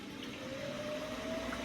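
Electrolux EWX14450W integrated washer dryer draining with its pump, a steady close mechanical whine and hum with a faint rising tone, continuous and alone.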